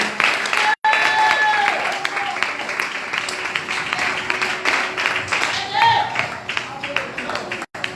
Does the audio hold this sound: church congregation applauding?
yes